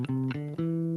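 A bass guitar steps up through an ascending mode scale, three clean plucked notes in quick succession, each sustaining briefly, close and solo with no talk.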